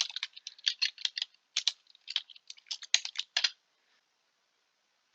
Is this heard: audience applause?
no